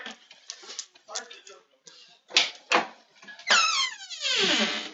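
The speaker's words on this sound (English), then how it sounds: "Squeaky door." A squeaky door creaks in a long rising-and-falling squeal near the end, after some quiet talking and a few short knocks or clicks.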